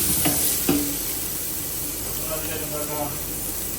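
Onions with ginger paste frying in a pan for an Arabic-style goat curry, a moderate steady sizzle with a couple of stirring knocks early on and a brief voice in the background.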